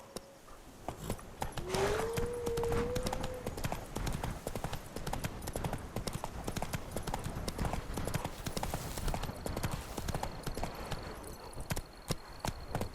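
Roach, a horse in The Witcher 3: Wild Hunt, clip-clops steadily on hooves throughout, a continuous walking rhythm close by, with a brief low vocal sound early on.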